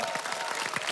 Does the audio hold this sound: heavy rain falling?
no